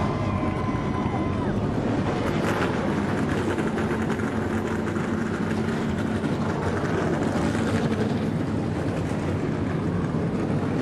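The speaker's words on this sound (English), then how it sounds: "The engines have fired." Field of NASCAR Xfinity stock cars idling together after firing up at the start of the Service King 300 in Southern California, a continuous loud engine rumble with wind buffeting the microphone.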